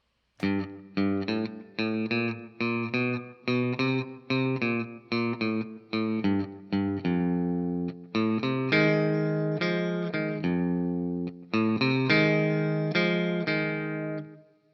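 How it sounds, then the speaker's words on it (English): A distorted electric guitar plays a walking bass line turnaround from a blues, steady repeated low notes stepping upward, then sustained chords ringing out near the end. "Then we have a little walking bass line for our turnaround."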